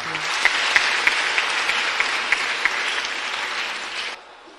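A crowd applauds steadily and densely for about four seconds with a few louder claps standing out, then the clapping cuts off abruptly.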